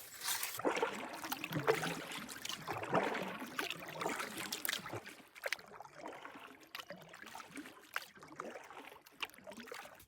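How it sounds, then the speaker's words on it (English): Canoe paddle strokes on Horse Lake, with water splashing, dripping and gurgling close by in a steady rhythm of repeated strokes, loudest early on and easing to softer, intermittent splashes. "I just have to do a bit of paddling and a small portage and a little bit more paddling"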